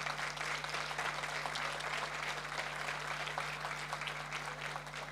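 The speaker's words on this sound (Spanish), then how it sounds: "Dale un fuerte aplauso a Jesús" A church congregation applauds, a sustained, moderately loud patter of many hands clapping together in a room with a steady low electrical hum underneath.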